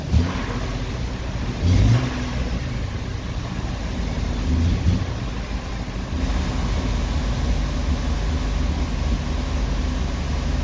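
A car engine idling high and misfiring, a steady close rumble with uneven dips and a few louder surges across the stretch, heard alone.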